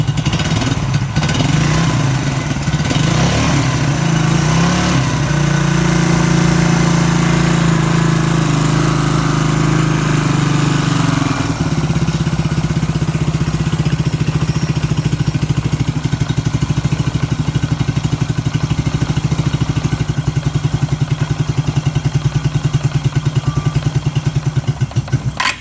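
An old Suzuki Quad Runner ATV found in a chook shed idles loudly and steadily on choke, its engine note dropping and changing partway through before settling into a rough, continuous idle.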